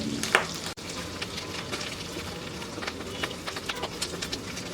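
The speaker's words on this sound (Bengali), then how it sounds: "বাস ভাজা হয়ে গেল ডিমগুলা এগুলোকে আমি এখন তুলে নিব তেল থেকে" Eggs frying in hot oil in a pan sizzle steadily with a crackling texture, joined by occasional scraping and stirring knocks, close and fairly loud with no talking.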